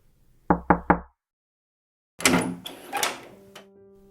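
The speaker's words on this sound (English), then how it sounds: "They found the address they were looking for, and went up and knocked on the door." Three quick, close knocks on a door, then after a pause the door opens with rattling and a creak of hinges, heard up close in a quiet room.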